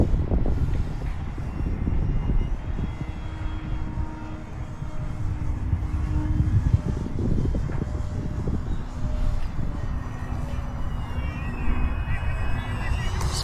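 A Flex Innovations Mamba 10 G2 RC airplane on its maiden flight, a thin engine whine circling at a distance under wind buffeting, rising and fading as it passes.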